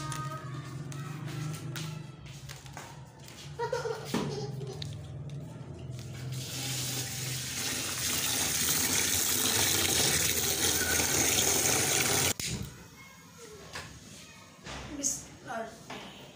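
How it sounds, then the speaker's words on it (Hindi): Rice being washed under a running kitchen tap, water gushing and splashing into a pot that swells to a steady rush before stopping, with someone talking over parts of it. "सबसे पहले जो मैं चावल को धो लेती हूँ,"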